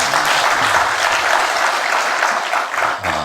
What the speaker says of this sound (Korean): 우리 한번 박수 한번 하도록 하겠습니다.